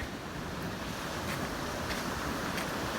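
Arabian Sea waves wash below the Diu fort, a soft continuous surf hiss mixed with light wind, distant and fairly faint, with gentle swells but no voices.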